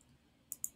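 Two quick, faint clicks of a button pressed on a Circuit Playground electronics board, sharp and close, following each other in rapid succession over near silence.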